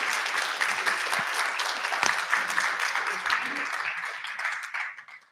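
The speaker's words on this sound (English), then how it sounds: "One more round of applause for the TexAgs guys" A luncheon audience applauds the TexAgs radio guests, steady dense clapping through the room that fades out at the end.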